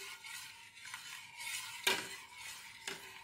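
Lemon juice being stirred into hot full-cream cow's milk in a pan, with soft scraping swirls and a few light spoon clinks against the vessel, close and fairly quiet; no one speaks.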